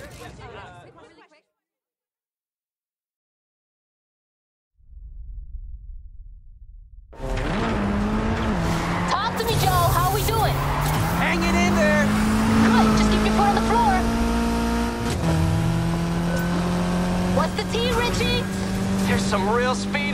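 Race cars speeding in Need For Speed Heat: after near silence, engines roar in and hold a loud, rising and shifting whine, with a voice talking over the racing noise.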